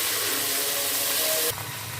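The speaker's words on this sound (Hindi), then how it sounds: "थोड़ा भूनेंगे, अदरक लहसुन को भी हम सौटे करेंगे" Ginger garlic paste sautéing in a pan for a cabbage sabzi gives a steady, close sizzling hiss that drops to a softer level partway through, with no talking.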